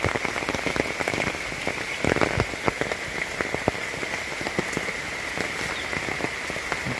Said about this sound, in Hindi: बहुत ही बारिश हो रहा है।